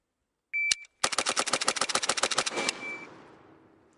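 A gun fires a rapid string of about eleven rounds at a target, sharp evenly spaced cracks in quick succession after a single opening shot, loud and close, with a ringing tail.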